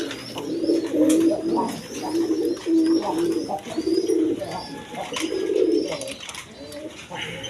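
A pair of Black Beauty pigeons coo in repeated low, throaty bursts close by, several calls rolling one after another with brief gaps, while fainter chirps and ambient noise sit behind them.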